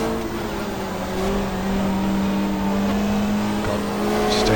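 A 1995 Super Touring race car in GTR2, an Australian championship round at Calder Park, runs under steady engine drone with a slight pitch shift as it drops to second gear, engine noise continuous throughout.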